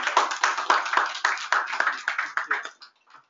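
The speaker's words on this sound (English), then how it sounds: "Let's give a round of applause for Ahmed's support." Applause at a medical symposium, a brief burst of irregular clapping that sounds more like a few hands than a full crowd, tapering off after about three seconds.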